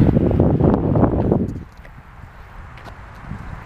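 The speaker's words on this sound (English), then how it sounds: "It's awfully windy, brother." Outdoor wind gusting, a loud rumbling buffet across the microphone for the first second and a half, then dropping to a lighter, steady breeze.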